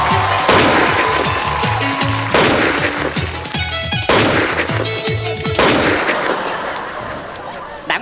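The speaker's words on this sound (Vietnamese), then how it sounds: "Đạn bắn quá trời, thằng nào trúng đạn vậy?" Rapid volleys of gunfire, many shots cracking in dense bursts with short pauses between them, loud and close, with a voice briefly audible among the shots.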